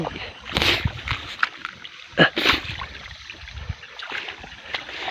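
Water flows into a terraced rice field during paddy transplanting in Tehri Garhwal, Uttarakhand. Close, uneven splashes and gurgling bursts run over a low trickling background.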